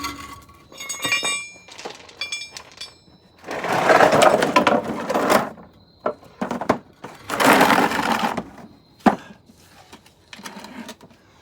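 A brake rotor on a 2015 Dodge Ram 2500 being tapped loose, heard as sharp metallic clinks and knocks in irregular bursts, several longer scraping rattles, and a ringing strike near the end.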